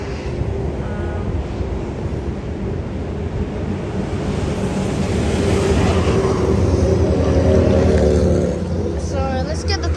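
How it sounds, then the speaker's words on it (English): A 2-car A series test train passing through Cockburn Central Station, a broad rumbling roar that swells steadily over ten seconds with wind buffeting the microphone, no talk over it. "so here's a test train"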